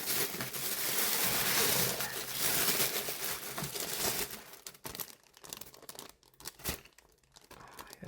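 Paper packaging on a book subscription box being handled and torn open, crinkling and rustling loud at first, then fading into softer, sporadic crackles.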